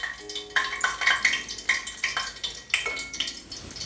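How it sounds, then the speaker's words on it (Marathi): Fried rice-and-jaggery anarsa coated with sesame being lifted from hot oil in a kadhai, with bubbling oil sizzling and crackling throughout and a series of sharp clinks and scrapes as the pieces are drained. "आता हे असं अनारसा तेल नितळायचं कढईमध्ये"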